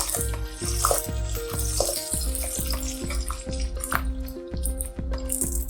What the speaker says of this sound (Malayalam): അപ്പോൾ കടുക് പൊട്ടി തുടങ്ങിയിട്ടുണ്ട്.